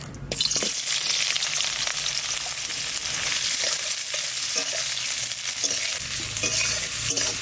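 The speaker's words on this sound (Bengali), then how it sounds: "পেঁয়াজটা একটু ভাজা ভাজা হয়ে গেছে" Chopped onions sizzling in mustard oil, a dense continuous crackle and hiss close up, with occasional scrapes of stirring throughout.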